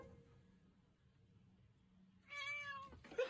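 Cat meowing, a quiet close meow near the start, followed after a near-silent stretch by a louder, drawn-out meow and a brief final cry, all without speech.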